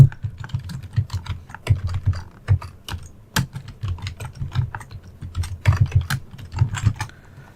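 Computer keyboard typed at an uneven pace, with close, crisp key clicks arriving in bursts and short pauses and no voice.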